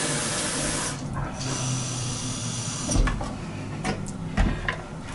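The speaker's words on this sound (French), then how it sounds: "Alors on met de l'eau." Water pours into the tank of a Dyson V15 Submarine wet floor cleaner, a steady close splashing rush that then breaks into a few clunks and knocks as the flow ends.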